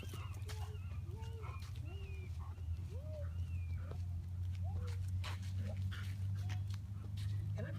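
Reggie, a dog in e-collar training, lets out repeated high, thin whimpers and short whines, scattered over several seconds against a low steady hum, with quiet talk in the background.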